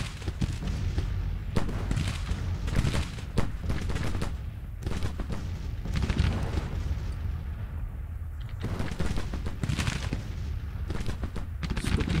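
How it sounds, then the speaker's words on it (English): Artillery and rifle fire boom across a Civil War battlefield in Grand Tactician: The Civil War, with dense, irregular volleys of shots and heavy cannon blasts rolling continuously, some close and sharp, others distant. "The artillery in this army is really awesome."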